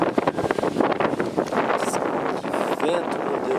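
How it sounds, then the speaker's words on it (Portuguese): Strong wind buffets the microphone beside a lake, a loud rushing roar with gusty swells while someone speaks over it. "Que vento, meu Deus."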